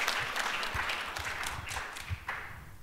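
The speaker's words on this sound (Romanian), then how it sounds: "I heard you clapping" Applause from a church gathering audience, a dense wash of many hands clapping steadily throughout at moderate volume, with a few sharper individual claps standing out.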